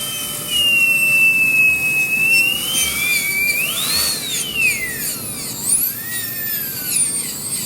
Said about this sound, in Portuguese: nós ainda refinaremos esses desgastes com uma broca de granulação fina, também já uma broca usada